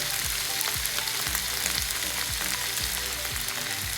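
Vegetables stir-frying in a pan over a low flame, a steady close sizzle, with soft repeated knocks of stirring against the pan in an irregular rhythm.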